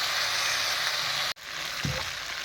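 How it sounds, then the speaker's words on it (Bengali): Potato and eggplant curry frying with spices in a pan, a steady close sizzle broken by a brief silent gap and a low stirring thump just after. "এই যে তরকারিটা কষা হয়ে যাচ্ছে"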